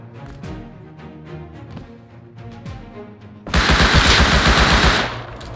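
Gunfire in the survival video game Rust starts with sparse, separate shots, then turns into a loud, dense burst of rapid automatic fire lasting about two seconds. No one speaks.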